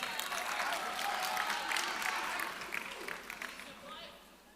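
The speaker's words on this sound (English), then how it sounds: "We appreciate the applause" Audience at a university graduation ceremony claps in a dense burst of applause that gradually fades, with a voice speaking over it through a hall sound system.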